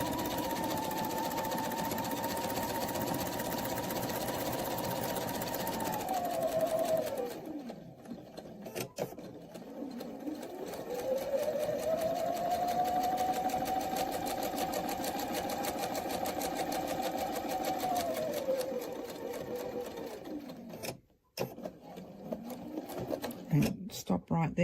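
A sewing machine stitches a full rotation of a quilted piece, its motor whirring steadily and rising and falling in speed, pausing briefly midway before running again, close and moderately loud.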